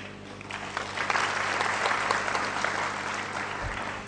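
An audience at a public talk bursts into applause, sustained clapping that swells after the first second and stays dense and loud for about four seconds.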